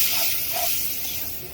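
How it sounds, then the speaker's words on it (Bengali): Onion hisses steadily in a hot pan with oil, a short soft sizzle with a faint clink at the end. "এখন পেঁয়াজটা ভেজে নিব,"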